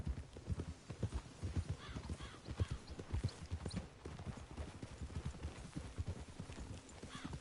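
Steady clip-clop of horse hooves at a trotting rhythm in the video game Red Dead Redemption 2, fairly close, with a faint whinny and soft background ambience.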